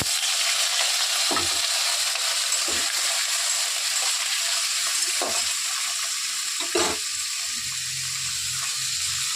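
Potatoes sizzle loudly in hot oil tempered with green chillies and five-spice, a steady broadband frying hiss with several brief stirring scrapes spread through it.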